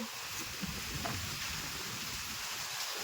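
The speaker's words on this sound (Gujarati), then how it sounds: "વરસાદ એ ધીમો ધીમો ચાલુ છે" Faint, soft rain patters evenly in the background, a quiet continuous hiss with no other clear sounds.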